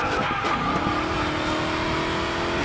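A Dodge car in the Racing Master video game races and skids, tires squealing over a steady engine drone that rises in pitch, loud and continuous with no voice over it.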